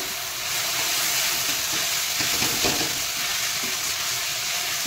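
Sushni and red amaranth greens frying in a pan over low flame while being stirred, a dense continuous sizzle with soft scraping of the spoon throughout.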